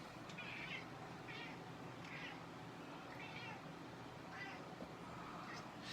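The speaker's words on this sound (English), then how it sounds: "Oh, this cat's annoying." A cat meows about six times at fairly regular intervals, each call short and rather faint against a low background hum.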